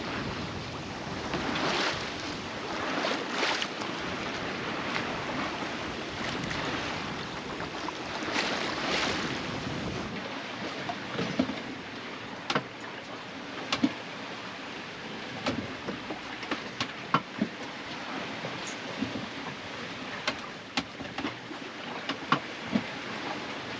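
Sailboat underway in the Hauraki Gulf, New Zealand, with continuous wind buffeting the microphone and waves washing and slapping against the hull, a steady broad rush punctuated by sharper knocks and splashes in the later part.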